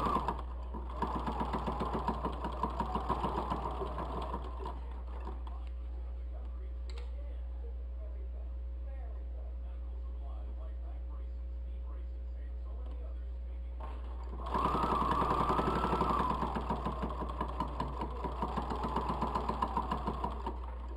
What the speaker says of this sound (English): I like to backstitch a little bit on my corners.